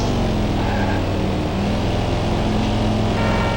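A Corvette C2 with the L84 engine races in a video game, in Riverside Red. Its engine drones steadily and loudly for the whole stretch at a constant pitch, with no talk over it.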